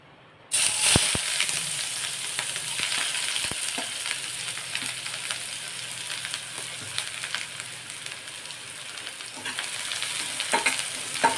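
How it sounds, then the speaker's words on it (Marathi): Finely chopped onion frying in a wok, a steady hot sizzle that starts abruptly and holds throughout, with occasional scraping clicks of stirring. "आता या सर्वात आधी तर यामध्ये आपण बारीक चिरलेला कांदा टाकून घेणार आहोत"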